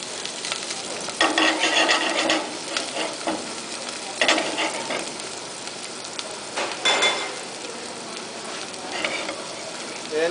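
Chopped onion sizzles steadily in a hot oiled pan while being made into arroz caldo, with stirring and scraping bursts at intervals, close and fairly loud, no voices.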